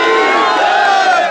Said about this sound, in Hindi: अरे वो मेरे लिए मोदी जी के लिए तालियां बज रही है।